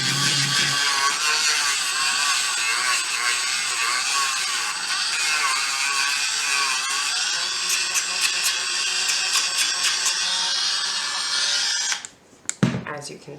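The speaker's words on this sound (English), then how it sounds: "I will take my Dremel and try not to get that stuck to my finger. And I will actually round off the edges." A Dremel rotary tool whines steadily at close range as it rounds off sharp edges, running continuously before cutting off abruptly near the end.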